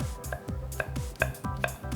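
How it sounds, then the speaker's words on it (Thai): A knife dices an apple rapidly on a cutting board, about ten quick, regular taps with crisp knocks against the board. "หั่นเป็นเต๋าๆ ครับ"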